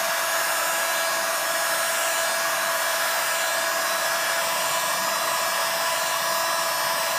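Dust extraction vacuum running for a saw bench, a steady loud broadband whoosh with a fixed hum, continuous and unchanging throughout with no talk.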